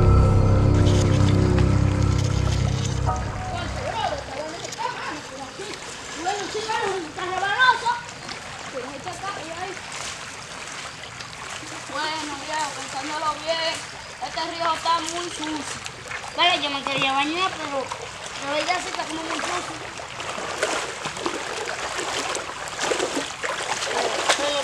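River water flows and splashes in a steady wash throughout, partly under young voices talking nearby, with a louder rumble at the very start.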